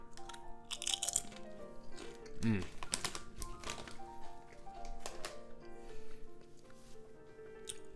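A second cheddar barbecue potato chip bitten and chewed up close, a few crisp crunches followed by scattered smaller crackles, with a voice speaking at times.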